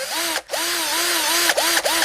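Right-angle drill fitted with a grinding ball working on sewer pipe, a steady high whine rising and falling with load, briefly cutting out and restarting, close and loud with no talk.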